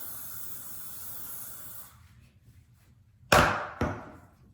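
Hairspray from an aerosol can is sprayed onto curled hair in two short, loud hissing bursts, the second briefer, after a quieter stretch of steady background noise.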